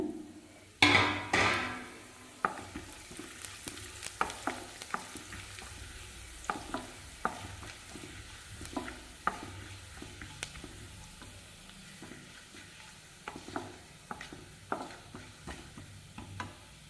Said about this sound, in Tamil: கொஞ்சம் எண்ணெயில் சீரகம் பெருஞ்சீரகம் பட்டை கிராம்பு ஏலக்காய் போட்டுக்கலாங்க